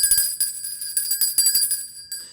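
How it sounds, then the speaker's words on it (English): An electric doorbell in a Sherlock Holmes radio drama rings in rapid, repeated bursts, a bright metallic trill that starts and stops insistently, loud and close. "Judging by the way he's wrenching at that doorbell"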